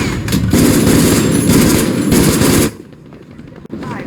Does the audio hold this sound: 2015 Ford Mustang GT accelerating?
no